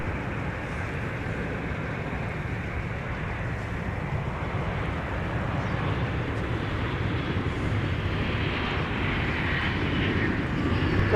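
Aircraft at Minneapolis airport in winter, a continuous low engine rumble that builds slightly toward the end, moderately distant, with no talk over it.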